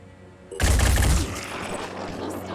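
Gunfire in the tactical video game Phoenix Point: a sudden loud burst of rapid automatic shots lasting under a second, then a lingering rumbling tail.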